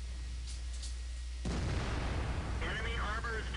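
The big gun of an ISU-152 tank destroyer in World of Tanks fires once with a sudden heavy boom. A rumbling tail follows, and a voice speaks as it fades.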